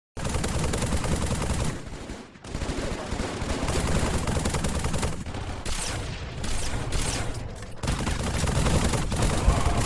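Dense, continuous automatic gunfire rattles through a Halo 3 match on the Valhalla map, played in VR. The firing is loud and close, nearly unbroken, with brief dips in the barrage.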